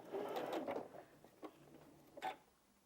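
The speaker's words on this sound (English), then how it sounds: "Sometimes your machine tends to push that corner of that fabric into the throat" A sewing machine stitches fabric for a quilt block in short, faint whirring bursts, with small mechanical ticks between the runs and no voices heard.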